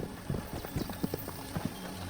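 Horse hooves clip-clopping at a steady walking rhythm in the medieval game Kingdom Come Deliverance 2, soft and close over faint ambient noise.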